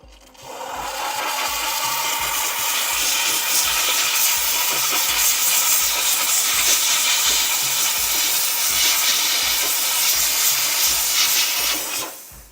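Loud, steady hiss of a steamer jet blasting an orthodontic Hawley retainer to clear off wax and acrylic crumbs, running continuously and close for over ten seconds with a faint low rhythmic knocking underneath.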